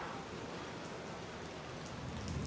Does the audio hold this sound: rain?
yes